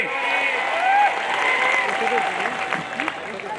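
Audience applause at a Maharashtra Kesari kushti wrestling bout, clapping crowd spread broad and steady, with a voice and whistle-like tones riding over it.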